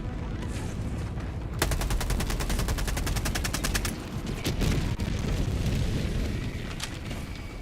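Sustained automatic gunfire in the shooter game Helldivers 2, a rapid, loud, even-paced burst of shots lasting a couple of seconds, then scattered heavy blasts and booms over dense battle noise.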